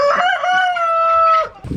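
A rooster crows once, a long drawn-out cock-a-doodle-doo close by, ending with a brief low rustle.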